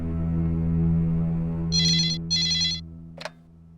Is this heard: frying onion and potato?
no